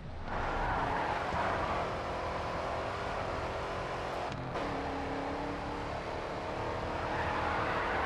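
In the racing video game Grid 2, a V8 race car engine drones steadily at high revs, close and loud throughout, with a brief dip in pitch midway as if shifting or skidding.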